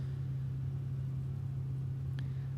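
GT race cars circulate in a pack behind a GR Supra safety car on the back straight at Virginia International Raceway, their engines blending into a steady, even, low droning rumble with no sharp revving.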